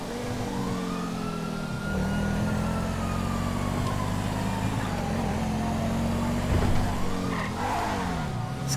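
A fast car in GTA 5, on a police patrol, roars along with a loud engine and sliding whines of revving and tire squeal. The sound runs continuously and swells briefly near the end.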